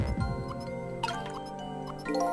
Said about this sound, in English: I think that started some water droplets.